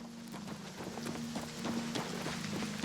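Hooves of a horse clip-clop at a quick walking pace in the Oblivion Remastered video game, soft and fairly distant, over a low steady ambient hum.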